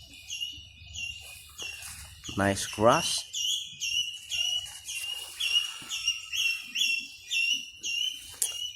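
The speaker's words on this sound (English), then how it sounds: "I think the birds calling to me." Birds in a garden in Goa give repeated high chirping calls in a steady rhythm, with a person speaking briefly over them.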